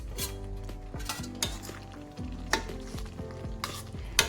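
A utensil stirs fried eggs into a sizzling egg ghee roast masala in a pan, with repeated scraping and clinking strokes over a continuous close frying hiss.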